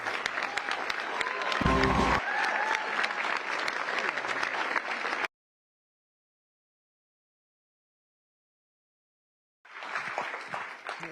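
A crowd applauds the president with steady, dense clapping and some cheering, breaking off into silence before the applause picks up again at the end.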